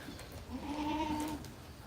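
A single Osmanabadi goat bleats once on a goat farm, a wavering cry lasting about a second, fairly faint against quiet background noise.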